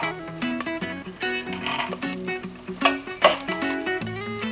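Whole spices and nuts such as cashews and almonds sauté in a pan for Kashmiri pulao, giving a light, steady sizzle with occasional stirring under prominent background music.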